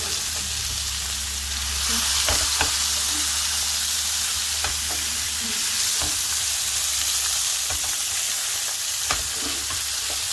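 Fish skin frying slowly in a pan until crispy gives a continuous close hiss and sizzle, with occasional small pops and taps throughout.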